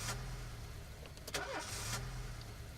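A truck engine in the police video game This Is the Police cranks and starts, a steady low rumble running throughout with a brief rising catch near the middle, heard alone without talk.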